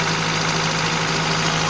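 A Honda Accord CB7 engine idles steadily in a continuous low hum with a constant drone and no revving, close and fairly loud, with no talking.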